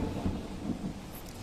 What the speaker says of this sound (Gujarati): પવન અને વીજળીના કડાકા સાથે વરસાદ પડ્યો છે.